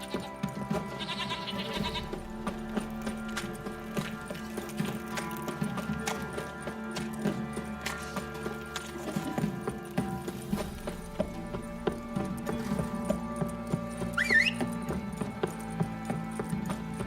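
Horses clip-clop in The Witcher 3: Wild Hunt, hooves thudding in a steady rhythm over a busy game ambience with animal bleats and scattered clanks, no speech.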